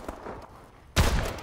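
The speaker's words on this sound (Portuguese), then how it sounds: "Dá pra escutar o tiro." Gunfire in Call of Duty: Advanced Warfare, a sudden loud burst of rapid shots after quieter game noise, close and sharp.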